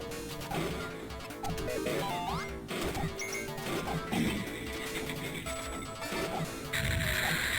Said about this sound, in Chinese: 趁着我的穿甲弹没有过期，轰碎了 BOSS 2门炮